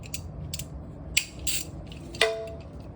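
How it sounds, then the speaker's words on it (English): Ratchet clicks from a hand ratchet with a 10 mm swivel socket, working on the oil pan of a G37/G35 HR: a few short, close metallic clicking bursts separated by pauses, with a faint low hum underneath. "Get a small 10 millimeter socket."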